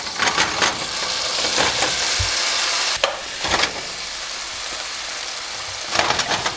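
Maple glaze sizzles as it hits a hot pan of roasting carrots, a broad steady hiss with a few sharper crackling bursts, no talking.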